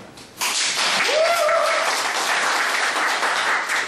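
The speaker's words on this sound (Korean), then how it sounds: "이런 이야기를 하니까 아이들은 지금처럼 뜨거운 박수가 나옵니다." Lecture audience applauding warmly, a sudden burst of dense clapping that stays loud and steady throughout.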